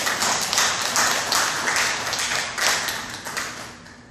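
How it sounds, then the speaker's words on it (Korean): An audience claps together in a steady, fairly fast rhythm for a few seconds, bright and crisp, with no talk over it. "함께 박수 한번 하시죠."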